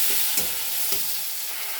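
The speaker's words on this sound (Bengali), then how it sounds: "পেঁয়াজ টমেটোটা ভেজে নিচ্ছি" Onion, tomato and green chilli sizzle steadily in hot oil after fish has been fried, with a couple of louder stirring scrapes over the constant crackle.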